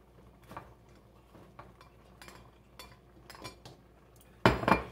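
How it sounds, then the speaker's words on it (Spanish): Pasta being gently stirred into a vegetable and cream cheese sauce in a pan, with soft scattered scraping and clinks of a utensil against the pan and a louder clattering burst at the end. "Integramos suavecito para que no vayas a romper la pasta"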